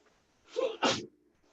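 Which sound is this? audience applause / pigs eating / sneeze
sneeze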